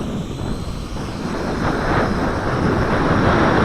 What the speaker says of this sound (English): Let's see if this can fight the wind. This is the JJRC H12C.